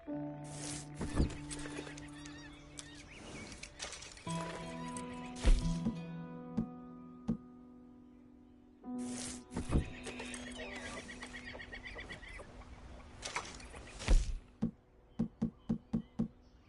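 Horse in the video game Red Dead Redemption 2 whinnies and neighs repeatedly over the clip, with hoof clip-clops and thumps in between and a burst of rapid hoofbeats near the end, while someone speaks briefly.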